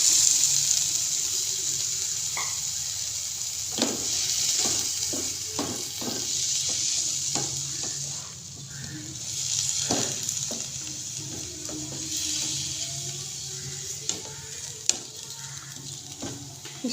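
Tomato puree cooks down in a pan for chicken vegetable bread snacks, sizzling steadily while a spoon stirs with repeated scraping clicks and knocks, close and alone.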